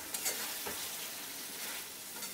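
Cauliflower, potato and poppy-seed paste get a brief stir in oil in a pan over a gas flame, a quiet, soft scraping sizzle that lasts only a couple of seconds.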